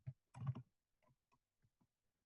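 Keys on a computer keyboard are typed in a spreadsheet program, a short cluster of close clicks followed by a few sparse taps fading out.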